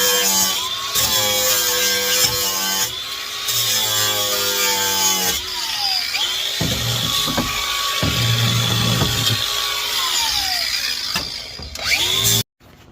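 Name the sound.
DeWalt cordless grinder with flat disc cleaning up welds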